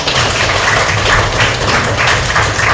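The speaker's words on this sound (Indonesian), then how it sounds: "Tepuk tangan buat kita semua." Students in a classroom break into a round of applause for everyone, a dense, steady patter of many hands clapping at once that stays loud throughout.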